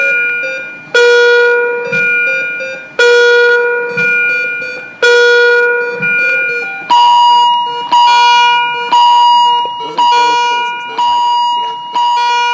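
A repeating electronic medical alarm tone sounds loud and close in regular bursts about every two seconds, each a cluster of bright harmonic beeps, with a second alarm pattern joining partway through; no one talks.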